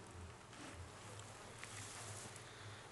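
A steady, low droning hum of honey bees swarming inside an opened hive fills the scene, continuous and fairly faint with no talking.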